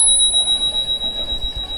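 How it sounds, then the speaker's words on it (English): A Brompton folding bicycle's handlebar bell rings with a bright metallic ting that lingers in a long, steady ring and slowly fades, close and alone. "I got the bell."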